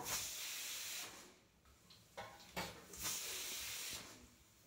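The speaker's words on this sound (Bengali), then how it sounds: "প্রেসার কুকারে ঢাকনাটাকে আটকে দিলাম। সিটি মেরে নেব 4 থেকে 5টা।" A pressure cooker holding mutton trotters for paya soup lets out soft hissing bursts of steam, uneven and fairly faint, rising and dropping several times.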